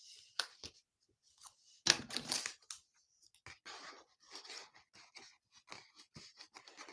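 Blunt craft scissors snip and chew through ribbon or paper at a stamping table, a series of close, uneven cuts with short crunching bursts and pauses between them.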